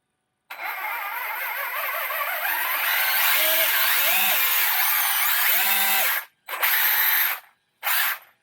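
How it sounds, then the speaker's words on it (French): Traxxas E-Revo RC car with a noisy steel spur gear, its electric motor whining loud and close, rising and wavering in pitch, then cutting off and revving again in two short bursts. "la couronne acier est assez bruyante."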